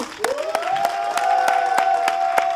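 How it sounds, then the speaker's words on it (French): A crowd at a live French-language stage show claps in a steady rhythm while a sustained shouted cheer rings over the beat. The sound is loud and close throughout. "Je vais vous demander d'applaudir pour Pou, s'il vous plaît."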